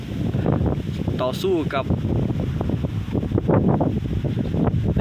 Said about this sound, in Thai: ลมพัดวิวิว เย็นดีเหมือนกันครับ